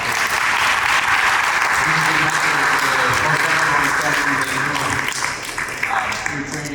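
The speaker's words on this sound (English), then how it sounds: "he deserves a great round of applause" Audience applause at a fire rescue cadet graduation ceremony, steady dense clapping from a large crowd that holds strong throughout, with faint voices and tonal sounds beneath it.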